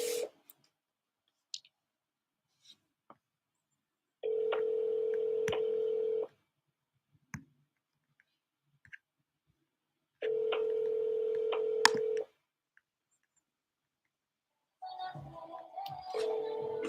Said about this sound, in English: But let me give him a call, see if I can get him on the phone.